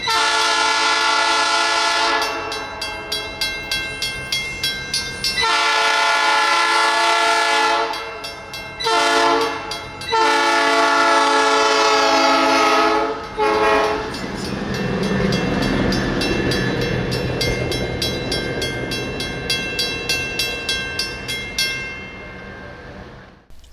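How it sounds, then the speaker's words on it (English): Two Reading and Northern rail diesel cars roll past on a rainy day, horn blasts sounding repeatedly over a rising rumble and rhythmic clickety-clack of wheels on rail joints. "First to appear would be the two rail diesel cars"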